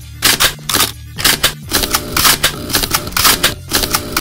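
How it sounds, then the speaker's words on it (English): A rapid run of analog film camera shutters firing one after another, loud close mechanical clacks and snaps in uneven bursts with brief pauses, no talk. "the shutter sounds are so much more unique and not these fake beeps or buzzes or big shutter sounds"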